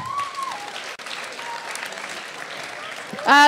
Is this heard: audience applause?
yes